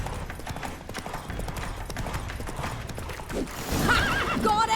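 A horse in The Witcher 3 gallops with rapid, continuous hoofbeats throughout, then lets out a loud whinny near the end over a busy game soundscape.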